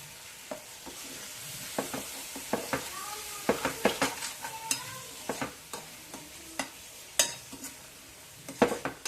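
A spoon stirs curd into a simmering curry, scraping and tapping against the pan in uneven strokes over a soft sizzle, close by and fairly quiet.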